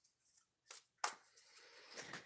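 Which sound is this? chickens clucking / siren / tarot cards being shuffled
tarot cards being shuffled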